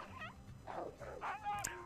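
Small cartoon dogs yip, whimper and bark in a few short bursts in the GTA 5 iFruit phone game, close and fairly loud, with a poodle among them.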